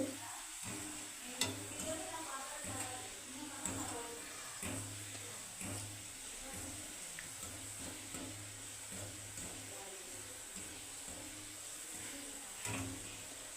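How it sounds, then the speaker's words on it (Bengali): Carrot slices fry in oil for vegetarian chips, with a faint, steady sizzle and soft stirring scrapes, plus a low recurring hum in the background. "দেখো গাজর ভাজাটা কিন্তু কমপ্লিট হয়ে গেল"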